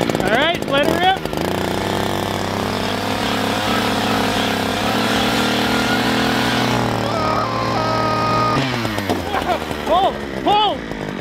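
Gas-powered ice auger drilling a hole through ice outdoors, its small engine droning loud and steady for several seconds, then winding down, with people talking and exclaiming around it.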